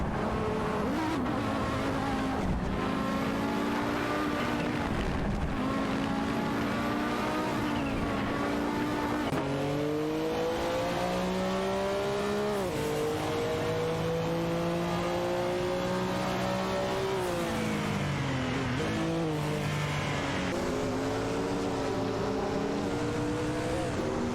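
Race cars in an AI-driven racing video game rev and accelerate continuously, engine tones rising and falling through gear shifts, loud and sustained with no talk.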